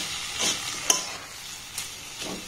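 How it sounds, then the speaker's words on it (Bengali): Spiced cauliflower mixture being stirred in a pan, a few soft scraping strokes with a faint sizzle underneath, quiet and close, no talking. "সমস্ত উপকরণ আবার একটু নাড়াচাড়া করে গ্যাসটাকে বন্ধ করে দেব।"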